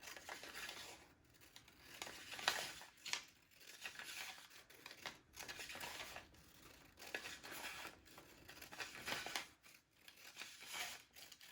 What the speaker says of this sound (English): So I'm going to cut my strip to be 1 3/4.